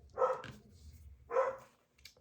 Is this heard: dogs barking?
yes